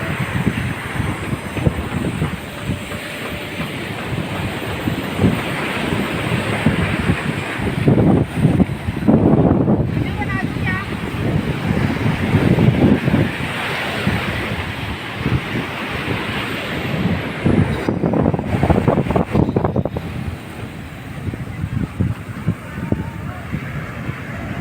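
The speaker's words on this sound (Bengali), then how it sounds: "অশান্ত আরব সাগর এখানে লাফিয়ে লাফিয়ে এসে পড়ছে জলে।" Rough Arabian Sea surf pounds Candolim Beach in Goa in the rain, a loud continuous roar of breaking waves with heavy wind buffeting.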